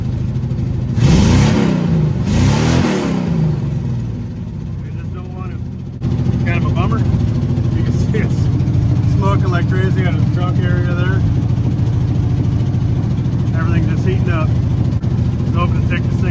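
Engine of a very rusty 1965 Ford Thunderbird revs in two loud, close bursts, then settles into a steady rumbling idle as the driver tries to get it into gear.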